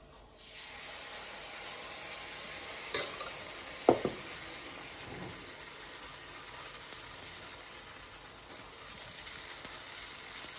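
Bun dosa batter cooking in a covered pan, a steady soft sizzle running throughout with a couple of brief clinks near the start, no voices.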